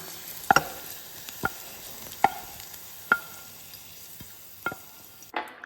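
Capsicum sautéing in a pan, with a low frying hiss under a handful of sharp, separate clacks as a spoon stirs and scrapes at intervals, close and alone.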